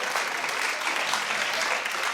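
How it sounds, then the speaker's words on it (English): A studio audience at a daytime talk show claps in a steady, subdued patter that holds at a moderate level throughout. "I got the low clap"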